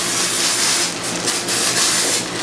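A few short bursts of cooking oil spray hiss over a steady background hiss, close and fairly loud, with no talking.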